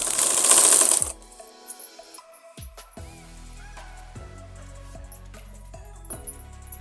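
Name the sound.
sewing machine stitching fabric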